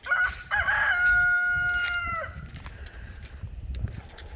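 A rooster on a homestead lets out one long, loud crow close by, followed by quieter scattered clucks and faint farmyard noise from the chickens.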